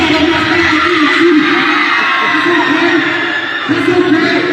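A teen party crowd cheers and shouts at an event hosted by a comedian and a DJ in Omaha, a loud, dense roar of voices with a host talking and calling over it throughout.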